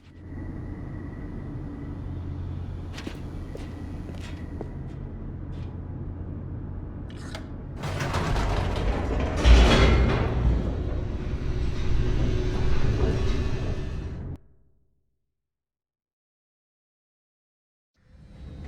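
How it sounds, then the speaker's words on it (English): An elevator mechanism descends in The Stanley Parable: Ultra Deluxe, a continuous mechanical rumble with clanks that swells into a loud rushing roar, then cuts off abruptly into near silence. "The elevator raced downward, plummeting towards an unknown fate."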